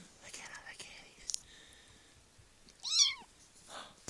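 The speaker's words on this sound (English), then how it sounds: "Look at all the kitties." A pile of kittens gives a short, high meow, fairly close but soft, with quiet whispered talk and faint rustling around it.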